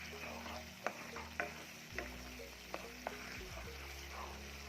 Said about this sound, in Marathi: हे सतत असं ढवळत राहायचं आहे आपल्याला.